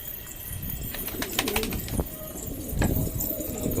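Pet pigeons coo softly in throaty bursts close by as they are fed millet, with brief wing flaps and rustling among them.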